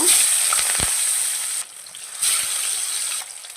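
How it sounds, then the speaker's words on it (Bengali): Bata fish frying in hot oil gives a loud close sizzle that drops suddenly, then surges again, with a few light utensil taps and no voices. "এবারে একে একে মাছগুলো ভেজে নেব।"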